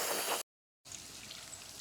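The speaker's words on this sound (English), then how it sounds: "It's another rainy day here in Texas." Steady rain falls on a rainy day in Texas, heard outdoors by a garden as a dense, even hiss of drops. The sound cuts out completely for a moment before resuming at a similar soft level.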